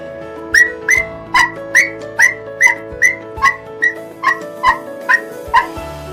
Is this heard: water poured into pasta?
no